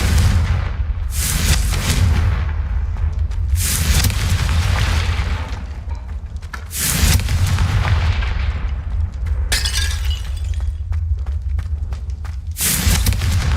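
Fire spells, Incendio and Confringo, blasting in Hogwarts Legacy: about five loud booming bursts, each with a crackling roar that fades before the next, spaced a few seconds apart.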